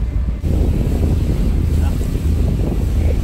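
Ferry ride on Sydney Harbour, with steady loud wind buffeting and rushing water around the boat throughout, and a brief dip near the start.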